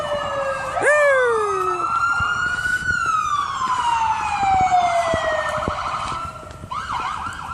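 A police siren wails nearby in Sault Ste. Marie, sweeping up and down in pitch, layered with a second siren's tones over distant traffic.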